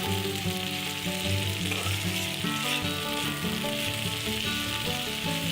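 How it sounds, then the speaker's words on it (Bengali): Onions fry with a spoonful of salt in a pan, making a steady, dense, close sizzle throughout. Soft tonal background music plays underneath and no one speaks. "পেঁয়াজটা ভাজা হয়ে গেছে,"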